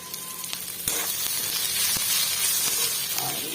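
Ginger garlic paste fries in a hot pan, a steady close hiss and sizzle with a few small clicks throughout.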